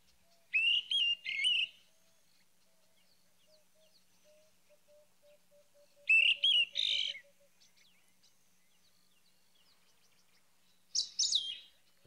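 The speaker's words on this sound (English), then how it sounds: "This is the territorial call." A chorister robin-chat's territorial call, played back outdoors on a morning safari, sounds as three separate bursts of bright, rapid whistled phrases spaced several seconds apart, clear against a quiet background with a faint steady tone between.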